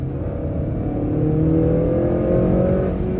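A 2023 Acura TLX accelerating hard in third gear in sport mode, its engine drone climbing steadily in pitch and staying loud and close throughout, with no talking.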